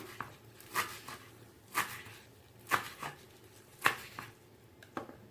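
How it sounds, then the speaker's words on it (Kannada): Vegetables cut into small garnish pieces with a knife for restaurant-style veg Hakka noodles, heard as about six crisp chopping knocks in an uneven slow rhythm, close and fairly quiet, with no talk. "ಅದನ್ನು ಸ್ವಲ್ಪ ಒಂದು ಪುಟ್ ಪುಟ್ಟದಾಗಿ ಕಟ್ ಮಾಡ್ಕೋತೀನಿ"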